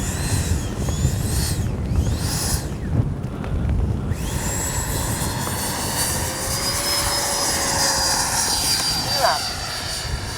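A Freewing 90mm F-22 Raptor RC jet, an older version without thrust reverse, whooshes loudly past in strong wind, its turbine whine rising and fading, with a voice talking over it.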